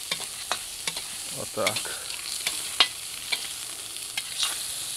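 Hot water being scooped out of a kazan cauldron over a campfire with a ladle: a series of short scraping, splashing scoops at an irregular rhythm, close and fairly quiet, with a brief spoken phrase.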